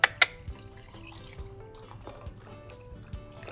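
Yakult drink poured from two small bottles into a soju-style cocktail: a couple of sharp clicks at the start, then a quiet trickling, dripping liquid stream close by with no talking.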